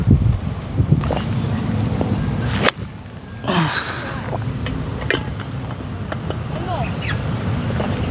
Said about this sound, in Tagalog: Grabe yung wind talaga.